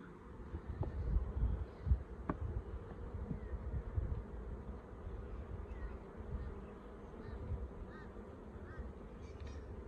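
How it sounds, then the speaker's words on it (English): A low, dense hum of many honeybees buzzing up close in an opened Flow Hive 2, continuous and fluctuating, with a few light knocks and clicks early on. "Heaps of bees."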